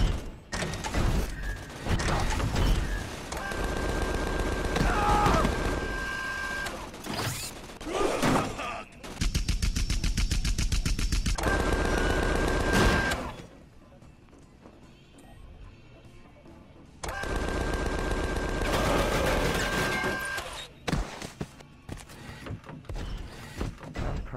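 Gunfire from a robot in Tales from the Borderlands, loud rapid mechanical bursts in several long stretches separated by quieter gaps with scattered clanks.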